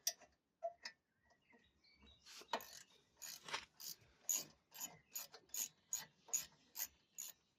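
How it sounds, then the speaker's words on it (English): Ratchet with an Allen key bit turning a brake caliper pin, a run of sharp rhythmic clicks that starts sparse and settles into an even ticking series, close and fairly quiet. "I think I'm gonna look if I have a ratchet with Allen key."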